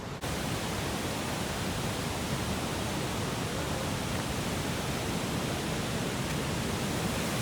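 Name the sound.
roaring waterfall at 4000 Islands, Laos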